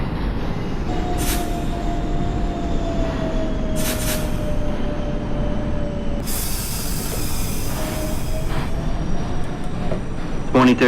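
NYC Subway R42 J train running in the OpenBVE train simulator, a continuous rolling rumble with a long sustained tonal whine, several bursts of hiss and clicks near the end, while radio voices talk over it.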